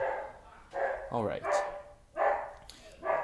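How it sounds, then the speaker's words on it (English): A dog barks in short bursts a few times at a moderate distance, with someone speaking briefly in between. "you can hear my dog barking like crazy because my mom just came home"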